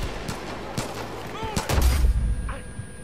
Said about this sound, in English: it must have been my remote bomb, but I didn't set it to blow